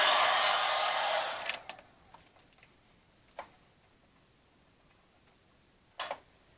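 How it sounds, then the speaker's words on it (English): A heat gun blows hard on alcohol ink to dry it before epoxy goes on. The loud, steady rush lasts over a second and then cuts off, and a few light clicks and taps follow in quiet. "let me hit this with my heat gun real quick"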